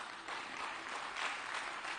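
Steady applause from a crowd, dense clapping that holds at an even level for a couple of seconds.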